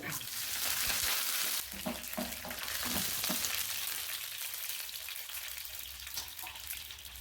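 Curry leaves and spices frying in hot oil for a Kerala squid roast, a steady, dense crackling sizzle throughout, fairly soft and close, with no voices.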